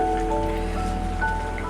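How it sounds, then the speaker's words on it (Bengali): Eggplant pieces fry in hot oil for a fish-and-eggplant curry, giving a steady, close rain-like sizzle with a faint underlying hum over the brief clip. "সব বেগুনগুলো দিয়ে দিলাম তেলে ভেজে, একটু তেলে ভেজে বেগুনগুলো এখন দিয়ে দিতেছি"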